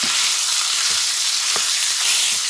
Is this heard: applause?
no